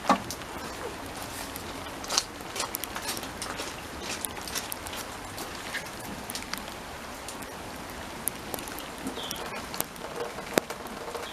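Steady rain falls on a back garden, a constant hiss of drops with scattered sharper pattering taps, close and fairly quiet throughout.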